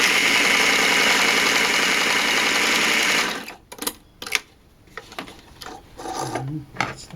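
A sewing machine runs a seam on a simple tunic, a loud, steady mechanical whir for about three seconds that stops, followed by scattered clicks and handling sounds.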